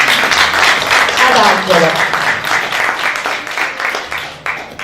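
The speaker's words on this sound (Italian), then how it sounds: "Quindi un applauso" Audience applause at a live performance event fills the room with steady, dense clapping, while someone talks over it throughout and the clapping thins out near the end.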